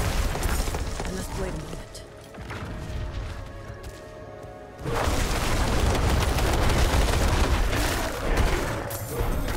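Booming explosions in the Diablo IV action game, a sustained rumbling blast erupting midway and rolling on loudly, with a person talking over the game sound.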